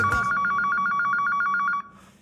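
An office telephone rings with a rapid, bright electronic trill, loud and close, for almost two seconds before stopping abruptly.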